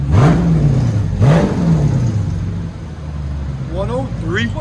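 A green 2022 Dodge Charger Scat Pack with a 6.4L 392 Hemi V8, factory converters and X-pipe and mid-pipe deletes, revs up sharply twice with loud blips that fall back. It then settles into a rumbling idle while faint voices sound in the background.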